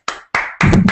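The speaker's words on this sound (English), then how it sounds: "I attempted to clap, and I knocked my mic over" A microphone is knocked over by an attempted clap: a sharp tap, a second thump, then a louder, longer clatter and rumble as the mic falls, all close and loud.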